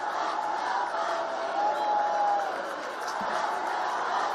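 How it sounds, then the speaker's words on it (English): A stadium crowd at a high school football state championship game roars and cheers from the near-side stands in a sustained, loud wash of voices that swells and eases slightly. "Cowbells ringing, fans cheering, and bands playing, all on this near side of High Point Solution Stadium."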